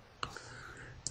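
A computer mouse gives a couple of faint, crisp clicks about a second apart, heard up close in a quiet room.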